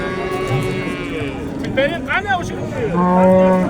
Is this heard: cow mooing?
yes